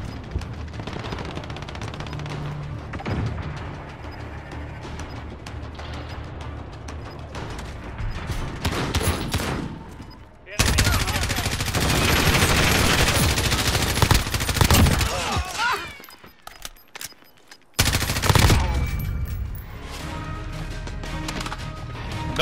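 Gunfire from Call of Duty: Modern Warfare bursts in loud, dense volleys of rapid automatic shots with heavy booms, breaking off briefly twice before resuming at full intensity.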